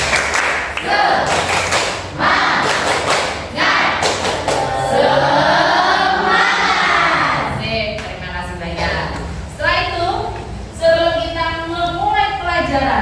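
A primary school class doing the rhythmic Indonesian 'tepuk semangat' spirit clap: sharp group claps in a patterned beat, interleaved with children chanting and a teacher's voice.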